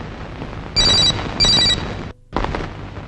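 A telephone rings twice in short, bright electronic bursts, loud and close, over a low background hum in a tense film scene.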